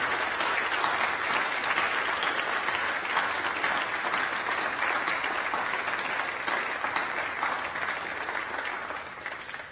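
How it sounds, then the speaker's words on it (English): A large audience in a university hall claps steadily for new graduates at a May 2022 graduation ceremony. The dense, sustained applause lasts throughout and eases slightly toward the end. "So, another round of applause, please, for our new graduates"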